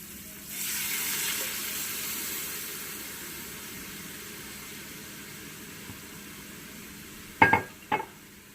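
Bone broth poured onto onions cooking in a pan for broccoli cheddar bacon soup, a soft rushing pour with gentle sizzle that fades, followed by two sharp knocks near the end.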